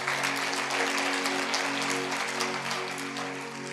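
A congregation at a Punjabi sermon claps loudly and steadily, a dense, continuous wash of many hands that holds for several seconds before easing slightly at the end, with a low steady hum underneath.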